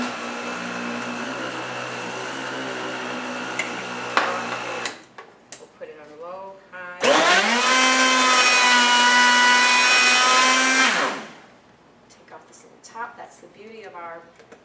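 A Vitamix blender whirs through a green drink, an earlier stretch of motor hum giving way to a loud, high-pitched roaring burst lasting several seconds before cutting off, with a voice speaking between runs.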